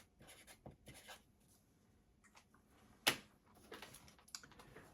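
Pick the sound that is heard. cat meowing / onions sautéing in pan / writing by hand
writing by hand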